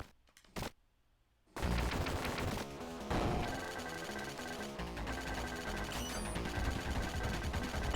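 Rapid gunfire and explosions from the Sega Genesis game Contra Hard Corps, starting after a short quiet stretch, then a dense, loud, continuous barrage of shots with chiptune music and effects.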